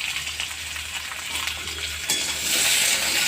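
Shukto vegetables fry in a pan with mustard and coriander, a continuous close sizzle that swells louder partway through, with light stirring and pan sounds.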